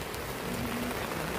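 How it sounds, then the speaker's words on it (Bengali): Steady rain falls on a rainy day, a dense, even patter of drops that holds constant throughout. "সেই সকাল থেকে বৃষ্টি হচ্ছে,"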